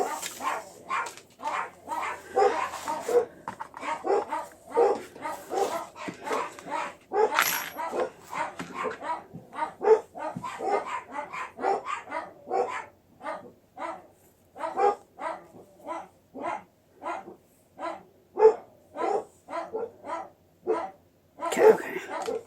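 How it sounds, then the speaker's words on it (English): Dogs bark over and over in a long run of sharp, fairly close barks with short gaps, some louder bursts and a few yips and whimpers mixed in, with no talk. "I have no idea what they're barking at."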